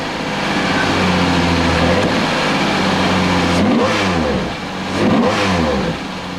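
Lamborghini Diablo VT with a 550-horsepower V12 engine, loud and close, holding a steady rumble and then climbing through two sharp revs that rise and fall.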